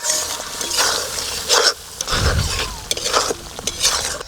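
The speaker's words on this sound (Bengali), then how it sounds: "এবার খুব ভালো করে মশলাটা কষে নেব" Spice paste with tomato paste stir-fried in a pan, a spatula scraping and stirring in repeated strokes over a steady sizzle, with occasional metallic clinks against the pan, loud and close.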